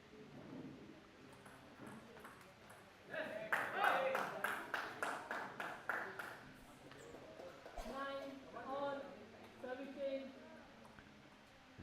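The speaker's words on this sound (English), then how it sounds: "Cheering their mentor." Spectators on the sidelines of a state table tennis championship in Goa break into a quick run of sharp claps and cheers, loud for a few seconds, while a commentator keeps talking.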